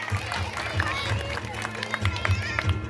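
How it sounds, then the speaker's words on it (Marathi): Audience applause at a village ceremony honoring newly recruited government employees, steady clapping from a crowd with a voice talking over it. "एक जोरदार टाळ्या वाजवू आपण याच्यासाठी."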